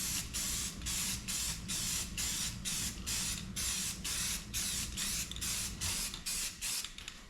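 Truck wheels for a squarebody pickup are spray painted in a rapid series of about a dozen short, close hissing bursts, each cut by a brief pause in a steady rhythm.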